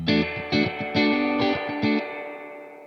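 An electric guitar plays through a Crazy Tube Circuits White analog spring reverb pedal set fully wet: five plucked chords ring out in an even rhythm, each trailing into a long, washy spring tail that lingers after the last.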